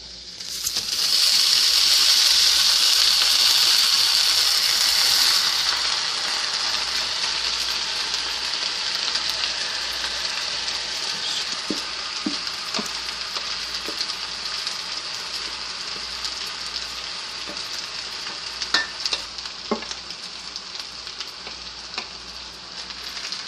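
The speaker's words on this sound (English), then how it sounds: "So now we're going to keep stirring it from the bottom up, spread it around" Shrimp fried rice sizzles loudly in a hot pan, an intense hiss at the start that settles into steady frying, with scattered scrapes and clicks of stirring from the bottom up, close and without talk.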